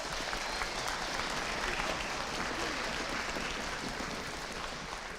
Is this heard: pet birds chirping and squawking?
no